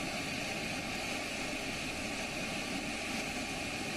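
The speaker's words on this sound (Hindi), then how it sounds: "इन तस्वीरों में आप देख सकते हैं 5 राफेल विमान सबसे आगे" Rafale fighter jets flying in formation with escort fighters of the Indian Air Force, a steady, loud, broadband jet roar that holds constant throughout with no voices.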